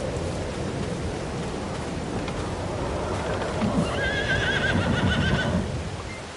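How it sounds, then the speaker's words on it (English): A horse in a farming video game whinnies loudly near the end over a backdrop of steady rain and soft hoof clip-clops. "We're gonna ride the horses in the rain."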